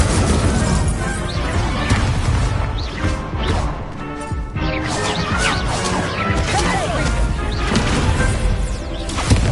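Incendio fire spell cast during a duel in Hogwarts Legacy: loud, dense crashing and whooshing bursts of magic with impacts and swishes, continuing throughout with brief quieter moments.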